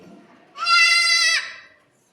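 A voice imitates a goat, giving one loud, close, quavering bleat of about a second, alone.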